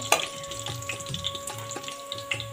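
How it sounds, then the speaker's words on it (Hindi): Fenugreek, coriander and cumin seeds crackle and sizzle in hot oil for a tempering, a steady frying hiss dotted with small pops and a faint stirring scrape, close by. "दूसरी साइड जो है कड़ी के लिए तड़का बना रहे हैं"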